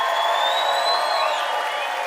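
A live theater audience at a comedy debate show cheers and whoops over steady applause, a loud, sustained crowd roar with rising shouts that holds for the whole moment.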